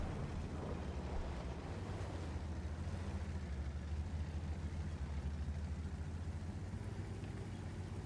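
Artillery fire in the World of Tanks video game, a heavy, continuous low rumble that stays steady throughout, with no distinct separate shots and no talking.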